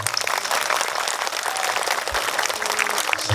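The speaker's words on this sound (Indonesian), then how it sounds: "Tepuk tangan untuk Pak Bupati" An audience at a religious gathering applauding the regent, a short, dense burst of crowd clapping, steady and fairly loud throughout with no talk over it.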